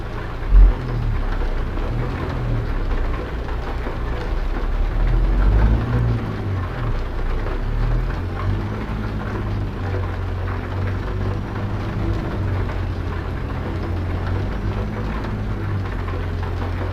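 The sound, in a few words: rain falling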